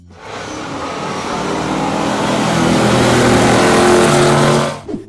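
A 1970 Pontiac GTO muscle car with a 455 V8 roars loudly at full throttle through a sustained acceleration run, its engine drone building steadily for about four seconds before cutting off abruptly.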